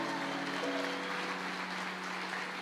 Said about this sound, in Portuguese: Você pode aplaudir com vontade ao nome do Senhor?